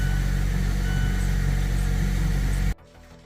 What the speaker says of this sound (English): So letting the vehicle run for about 30 seconds, let the oil circulate and fill up the oil filter.